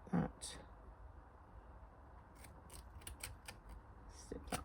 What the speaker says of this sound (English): I'm just going to snip that